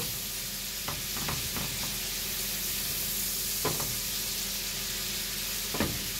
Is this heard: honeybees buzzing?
no